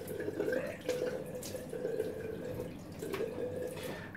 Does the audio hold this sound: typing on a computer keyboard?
no